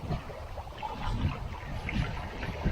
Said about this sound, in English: We've got quite a fair wind blowing at the moment.